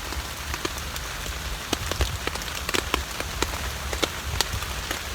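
Steady rain patters in a wooded spot, with scattered sharper drops striking close by over a continuous hiss, and no voices.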